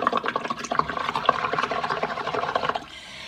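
Bubbling gurgle of air blown through a straw into a bowl of paint mixed with water, a dense run of small bursting pops and burbles that stops near the end, close and steady with no talk.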